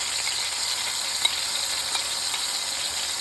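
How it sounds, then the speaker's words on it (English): Green onions, scallions and minced garlic sautéing in a saute pan for Southern shrimp and grits, a steady loud sizzle that continues without a break. "So let's go ahead and start adding our ingredients that we need to the saute pan. And the first is going to be the green onion and the scallions."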